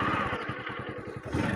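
A motorcycle engine revs in a short, throaty burst as the throttle is twisted, a rough pulsing drone that rises and falls over about a second and a half, heard up close with no speech.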